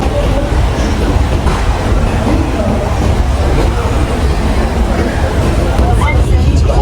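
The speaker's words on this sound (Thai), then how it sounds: "ตอนนี้ก็รถไฟกำลังข้าม ช่วงสะพานเฮลิกนะฮะ" Steady loud rumble and rattle of an Istanbul M2 metro train in motion crossing the Golden Horn bridge, with faint murmuring voices of passengers mixed into the continuous noise.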